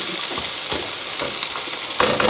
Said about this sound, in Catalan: Ara posarem la farina en el sofregit.